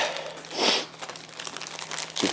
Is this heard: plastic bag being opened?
yes